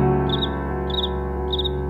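A cricket sings on a summer night in a countryside vineyard, three short high chirp bursts spaced evenly and fairly near, over a sustained musical backdrop.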